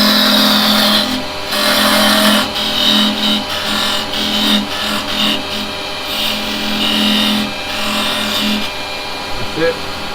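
A wood lathe spins while a parting tool cuts in close to the chuck, making a continuous whirring hum with scraping tool noise that rises and dips in intensity. Steady and fairly loud throughout.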